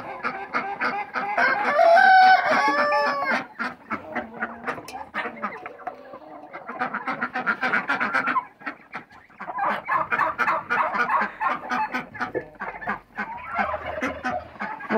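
Farmyard chickens cluck steadily while a rooster crows loudly near the start, the flock's busy chatter continuing close by with brief pauses, turkeys also present.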